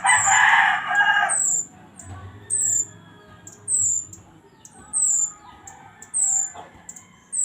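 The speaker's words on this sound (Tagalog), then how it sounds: "Tinawag niya yung mama niya. Kawawang tamsi. Hindi marunong lumipad." A flightless baby bird calls for its mother in a series of short, high, repeated chirps at a steady rhythm, close and clear, following a brief louder burst of noise at the start.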